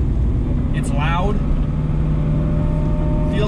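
A loud, steady engine drone from an LS V8-swapped Mazda RX-7 rumbles continuously from inside the car, with a brief rising whine and faint talk over it.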